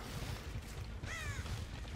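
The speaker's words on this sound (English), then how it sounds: "That's a bird." A single short caw from a bird in Dead by Daylight rings out over a steady low rumble of ambient wind, fairly faint and distant.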